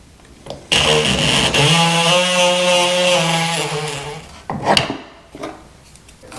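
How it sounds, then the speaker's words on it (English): An oscillating saw trimming a taped bathroom floor threshold, a loud buzzing whine that holds steady for several seconds, with clunks of handling before and after. "so I can trim it off with my oscillating saw"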